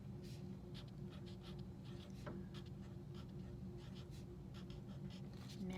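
A pen scratches across paper while a name is written for a children's craft, a quiet, close series of short scribbling strokes in an uneven rhythm.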